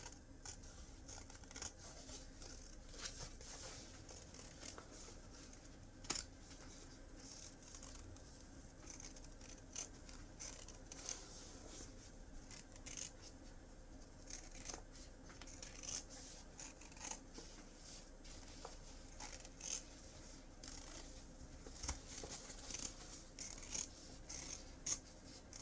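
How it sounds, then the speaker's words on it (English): Scissors snip fabric seam allowance on a sewn medium gift bag, a quiet series of short, irregular cuts and rustles close by, with no talk. "now we're going to trim that seam allowance down also to about 1/8 of an inch"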